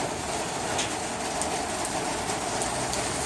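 Steady rain falls outside a garage, a dense, constant hiss of drops with no breaks, heard close and fairly loud with no voices over it.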